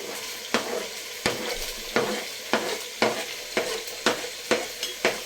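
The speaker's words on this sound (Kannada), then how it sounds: "ಇವಾಗ ತರಕಾರಿ ಫುಲ್ಲೆಲ್ಲ ಹಾಕಿದ್ದೀವಿ, ಫ್ರೈ ಆಗ್ತಾ ಇದೆ." Vegetables and tomato fry in oil for a vegetable pulao, with a steady sizzle broken by regular scraping stirs about every half second, close and fairly quiet.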